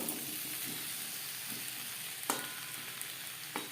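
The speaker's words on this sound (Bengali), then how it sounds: "কচুর সাথে টমেটো বেশ ভালো করে কুক করে নেব।" Taro pieces and tomato cooking in a pan over a gas flame, giving a steady, close bright sizzle with a couple of sharp clicks from stirring.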